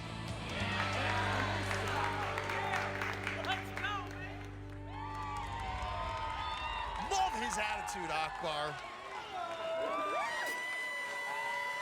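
A family cheers and shouts from the crowd at a Ninja Warrior obstacle course, with excited whoops and scattered applause. A commentator talks over the noise.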